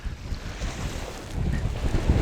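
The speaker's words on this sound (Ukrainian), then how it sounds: "Завоз відбувається корабликом." A small bait-delivery boat runs out over a lake during a carp fishing tournament, its steady low motor drone mixed with rough wind buffeting and choppy waves, growing slightly louder toward the end.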